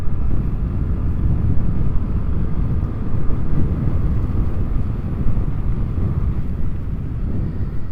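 A Vespa Sprint 150 scooter fitted with a Malossi variator accelerates at full throttle from a standstill, its engine drone steady and loud under heavy wind rush, with no talking.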